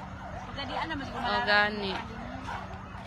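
A fire truck siren wails during a house fire in Tigbao, Zamboanga del Sur, rising and falling briefly at moderate distance while people talk over it throughout.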